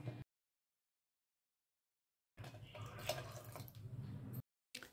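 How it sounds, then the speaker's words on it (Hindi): Hot boiled water poured into thick dal in a pressure cooker for oil-free dal palak, a steady splashing pour of about two seconds after a silent gap, close and fairly faint. "हमने इसमें 2 कटोरी पानी डाल दिया है।"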